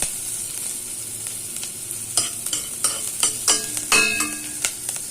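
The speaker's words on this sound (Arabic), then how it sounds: "حطينا حته سمن وحطينا شويه زيت، بس الزيت يكون نضيف يعني، حته سمن صغيره، وبعدين حطينا شويه زيت وقلبنا كده مع بعضه" Onion stirred in ghee and oil in a pan, a close, steady sizzle broken by a run of quick scraping spoon strokes that grow busier toward the end.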